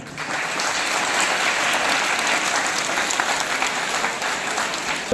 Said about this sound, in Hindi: आप सभी एक बार अपने लिए ताली बजा लीजिए पहले